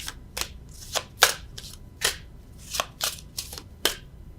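Tarot cards are shuffled and drawn by hand, producing a quick series of crisp, close riffling snaps and flicks in an uneven rhythm. The room is otherwise quiet.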